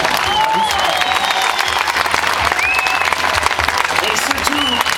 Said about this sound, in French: n'oubliez pas d'applaudir ces garçons qui étaient là pour que ça fonctionne.